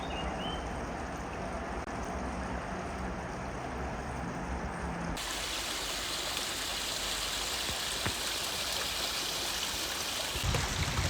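Freshwater stream along a Scottish hiking trail trickles and rushes in a steady, broad wash of water noise that holds evenly throughout, close by with no voices.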